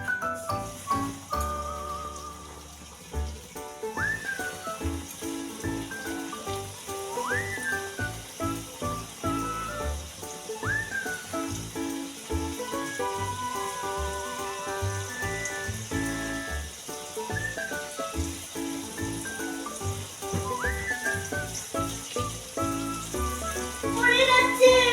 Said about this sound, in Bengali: ফের আমি এক এক করে সবগুলো ফের আরেকবার ভেজে নেব।